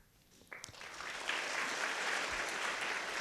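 Audience applause at a school event in Pali rises from quiet into a steady, loud wash of clapping that fills the room and holds without a break.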